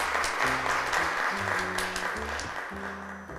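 A crowd applauds steadily, a dense wash of clapping that fades slightly toward the end, with a low musical tone underneath.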